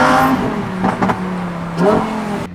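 A Lamborghini Huracan Evo RWD drives and accelerates, its engine note rising and falling through quick revs and gear changes, loud and close with a sharp surge near the end.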